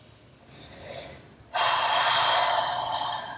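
Deep breaths are taken during a seated yoga twist, first a soft inhale, then a long, loud, airy exhale close to the microphone.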